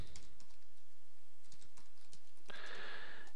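Short run of computer keyboard typing, a string of quick light key clicks for about two and a half seconds, then a brief burst of noisier hiss at the end; quiet overall, no talking.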